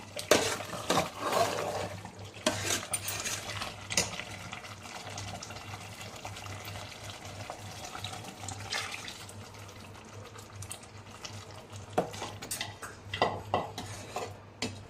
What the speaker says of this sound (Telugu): ఇప్పుడు దీంట్లో మనము వాటర్ యాడ్ చేసుకుందాము